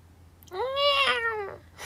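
A single drawn-out meow imitated by a human voice, rising then falling, close and clear against a quiet background.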